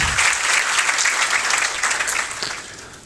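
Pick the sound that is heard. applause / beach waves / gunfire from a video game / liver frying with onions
applause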